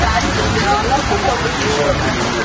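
Steady rain falling in the city of Tbilisi, Georgia, a dense continuous hiss of drops that stays loud and even throughout.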